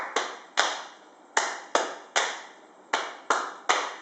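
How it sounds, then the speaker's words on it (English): Crisp sharp hand claps and lap slaps sounding one by one in a steady repeating pattern, each hit ringing briefly before the next, close and isolated with no voices. "We can put like 2 claps and one lap."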